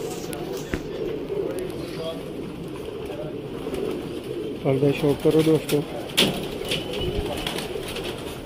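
Golden pigeons coo in a loft in Sialkot, a series of soft rhythmic throaty coos mid-clip beneath someone talking, with faint background ambience.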